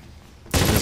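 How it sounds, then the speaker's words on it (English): Gunfire in the tactical shooter Rainbow Six 3 Raven Shield erupts abruptly after quiet room tone, a loud broadband blast sustained to the end of the short moment. "so as soon as I open him, I'm gonna shoot him. Shot both of them."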